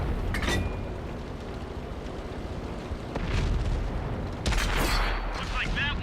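A tank cannon firing in a video game, a few heavy booming shots spread across several seconds over continuous rumbling battle noise, fairly loud and close, with a voice talking over it.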